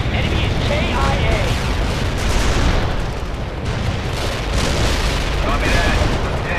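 Incoming gunfire and explosions in the World in Conflict strategy game form a dense, continuous roar of booms and shots, loud and close, with radio-style voices calling out over the battle.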